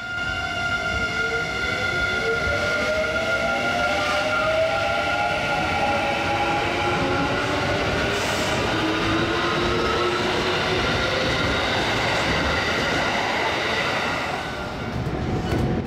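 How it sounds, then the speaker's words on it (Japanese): Kintetsu rapid express train running on an elevated section into Kobe, a loud continuous rumble with rising and falling tonal whine from the motors and rolling wheels throughout, close and steady. "芦屋駅を通過した列車は神戸市内に入り、高架区間を進んでいきます。"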